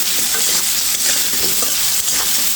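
Potato pieces frying in hot oil as part of a bottle gourd greens and small hilsa dish, giving a steady close crackling sizzle with occasional stirring scrapes and no voices.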